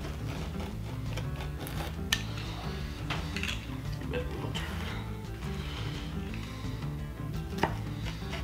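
A frozen supreme pizza is sliced, with repeated crunching cuts and light clicks of the cutter against a tray over a steady background hum, a couple of sharper knocks standing out.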